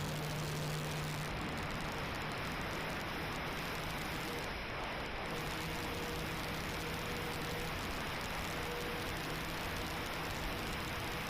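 An FMS Pilatus PC-21 radio-controlled model plane with an 1100 mm wingspan runs at full throttle, a steady, broadband roaring whine of propeller and electric motor, fairly faint and distant, with outdoor noise throughout.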